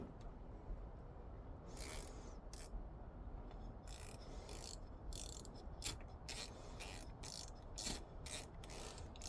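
A quarter-inch drive ratchet with a socket pounded onto a panhead screw is worked loose in a quick series of faint clicking ratchet strokes over a steady background hiss.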